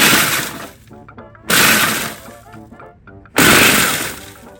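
A food processor pulses Italian long hot peppers in three loud, harsh whirring bursts, each trailing off into rattling and tapping as the chopped pieces settle, with quiet pauses between pulses.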